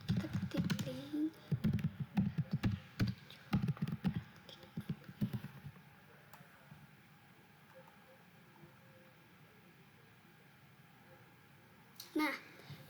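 Keys tapped on a computer keyboard while entering a ping command at a PC's command prompt, a quick burst of close clicks under a spoken voice, then a quieter stretch.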